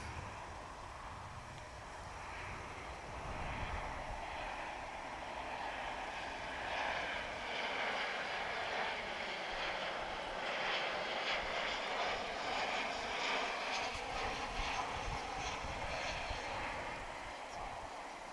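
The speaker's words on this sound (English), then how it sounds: "this is American Flight 926 coming into view. It's a 737-800, and it's our next arrival" An American Airlines Boeing 737-800 arriving at Dallas/Fort Worth Airport gives a steady, broad jet roar that swells slightly and holds for the whole stretch, distant but constant with no talk.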